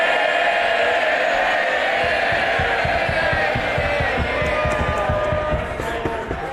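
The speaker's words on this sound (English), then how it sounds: "Cheer him by all means, but don't damage." MPs in the House of Commons cheering and roaring loudly, a dense sustained crowd din with rhythmic thumping that swells and continues throughout.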